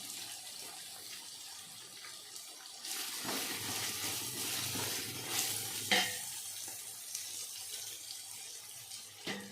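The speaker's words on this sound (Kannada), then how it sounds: "ಇವಾಗ ಹಸಿರು ಮೆಣಸಿಕಾಯಿ ಹಾಕ್ತಾಯಿದ್ದೀನಿ." Green chillies drop into hot oil in a frying pan for chicken biryani, setting off a rising, steady sizzle with occasional stirring clatter, close and moderately loud with no talking.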